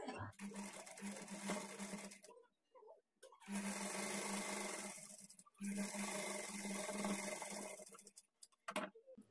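A domestic sewing machine stitches blouse fabric at a quarter-inch margin in two long, loud whirring runs of steady needle chatter, separated by a pause with faint handling noises and a short burst near the end.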